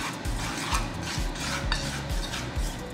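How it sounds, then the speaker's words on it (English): Garlic powder, paprika and hot pepper seasoning being mixed in a bowl for breaded air-fryer shrimp: a steady, close scraping and rasping of a utensil against the dish, with low rhythmic strokes repeating about twice a second, no voices. "I'm gonna mix that well."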